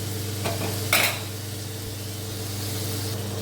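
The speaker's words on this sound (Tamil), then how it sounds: "வெங்காயமும் தக்காளியும் நல்லா மேஷாகிற ஆகிற வரைக்கும் நல்லா வணக்கணும்" Onions and tomatoes with rock salt are sautéed and stirred in a pan for tomato rice: a steady close sizzle with a sharp stirring clatter near the start and no voices.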